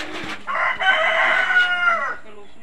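A large fighting rooster crows once, loud and close, a long strained call lasting about two seconds.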